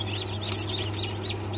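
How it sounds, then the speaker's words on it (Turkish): Newly hatched chicks peeping in an incubator, a few thin high chirps repeating over a steady low machine hum, close and fairly quiet. "Burada da bir tane yavrumuz var."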